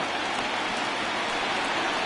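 Steady rain hisses in MLB The Show 20 during a baseball game, a dense and even downpour that continues with no pauses and no talking.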